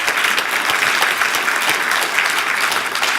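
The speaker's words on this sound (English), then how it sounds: "give you another round of applause for that" Sustained applause from a conference audience at the OpenDaylight Summit 2017, loud, even and continuous from start to finish.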